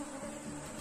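Honey bees swarm over capped wax queen cells inside an opened hive, giving a steady close buzzing hum that holds without a break.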